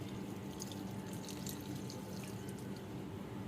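Water from a bowl poured onto the dry roots of garden plants at night, a steady, close, even splashing trickle with no talk.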